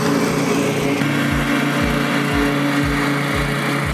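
Steady, close drone of a lawn mower cutting grass on a commercial striping job, its light engine running continuously with a regular pulsing throb and no pauses.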